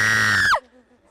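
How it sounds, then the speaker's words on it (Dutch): A group of scouts scream as loudly as they can, one sustained loud shriek that cuts off abruptly, followed by a brief faint murmur of voices. "Want jullie moesten schreeuwen hier."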